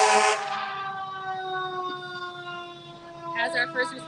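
Emergency vehicle sirens from first responders wail steadily at a distance, sustained tones sliding slightly, with a brief louder warble near the end; no voices.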